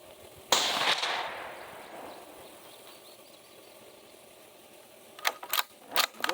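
Rifle shots fired at a target through a Cvlife BearMight 6-24x50 scope: one loud close report with a ringing decay, then after a quiet pause a quick cluster of several sharp metallic clicks and bangs.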